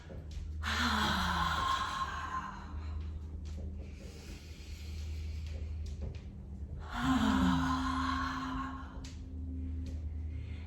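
Slow, deep breaths drawn in through the nose and let out in long, audible exhales, two breath cycles spaced several seconds apart, close and soft with low background hum.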